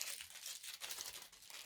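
A taped-up parcel holding motorcycle exhausts is torn open, giving close, continuous crinkling and ripping of tape and packaging over about a second and a half, with no voices.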